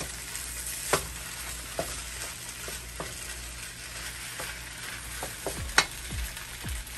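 Crab meat, crawfish and bacon sizzle steadily in a pan, with occasional clinks and scrapes of stirring cutting through the continuous hiss; no one speaks.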